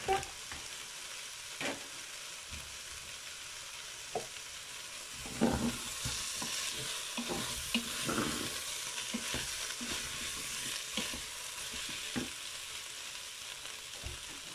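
Meat sizzles quietly in a Cookeo multicooker for a sausage and lentil dish, a soft steady frying hiss dotted with occasional stirring clicks and scrapes, fairly faint and without talk.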